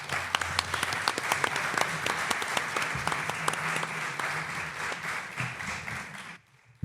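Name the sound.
audience applause for Maika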